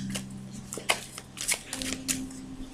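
Tarot cards being shuffled in several quick riffling bursts for another draw, close and fairly quiet, with a low steady hum underneath.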